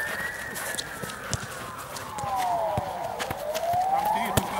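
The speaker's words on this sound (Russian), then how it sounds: "Сирена, Макс!" A siren wails steadily, its pitch sliding down then back up, over busy background noise and scattered knocks.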